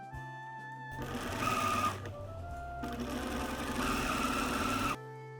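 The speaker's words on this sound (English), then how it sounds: "pin all the way around and sew about 1/8 inch away from the edge of the fold" A sewing machine stitches a dress hem about an eighth of an inch from the folded edge, running loudly and steadily in two long bursts with a short pause between them.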